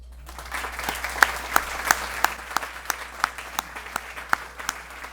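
A small audience applauds, with scattered individual claps standing out sharply against the soft wash of clapping.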